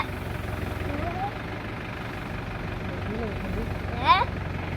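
A tractor engine idles with a steady low mechanical rumble in the background, while faint voices talk over it and a brief high-pitched sound rises near the end.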